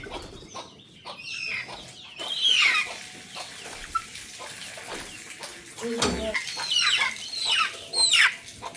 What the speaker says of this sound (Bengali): দেশি মুরগির এই যে এই 2টা বাচ্চা এখন ধরা হয়েছে জবাই করার জন্য